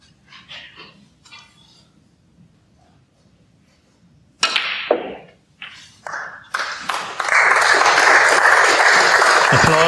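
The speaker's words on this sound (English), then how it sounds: "Applause for frame ball" Snooker audience applause for a frame ball at the 2017 English Open, O'Sullivan versus Higgins, starts with a few scattered claps after quiet, then swells into sustained, full clapping from the crowd.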